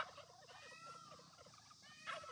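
Domestic turkeys, including toms, gobble on a small Indiana farm, with several rapid rattling gobbles overlapping at moderate distance over steady barnyard background noise.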